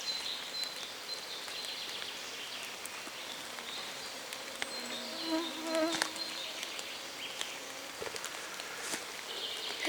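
Mosquitoes buzzing in a forest maple thicket, thin high-pitched whines drifting close and away over steady outdoor background, faint overall with occasional rustles.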